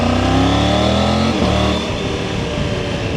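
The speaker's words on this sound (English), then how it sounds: "obviously being the T-plane crank triple engine, it's got that low down torque" A Triumph Tiger 900 motorcycle with a T-plane crank triple engine revs with a loud, gruff, close growl, then falls back to a lower, rougher idle.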